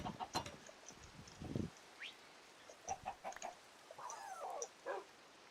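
Minecraft chickens cluck in short scattered bursts inside a village, fairly faint against a quiet game background, joined by a few chirps and one sliding squawk.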